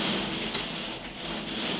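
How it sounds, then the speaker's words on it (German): Steady rain falling outside, a continuous even hiss of moderate loudness with no voices over it. "Es regnet."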